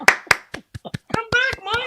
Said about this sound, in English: Golfer clap